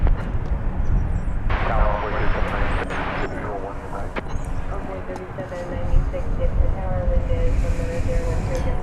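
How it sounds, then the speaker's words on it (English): A United Boeing 737-800 departing from DFW Airport, its jet engine roar rising and sustained in the distance, with talk heard over the rumble. "We're about to see United Flight 506 off to Denver. 737-800, there it is."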